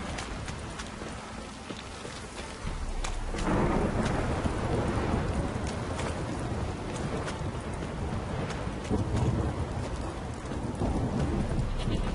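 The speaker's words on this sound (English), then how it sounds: "This downpour's a bastard, it is." Steady heavy downpour in The Witcher 3 video game, rain hissing broadly throughout with a low rumbling swell of thunder rising near the third second and lingering, plus faint intermittent hoof-like clops.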